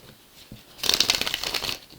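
A brief, close riffle of cards being shuffled, a rapid crisp flutter lasting about a second amid quiet.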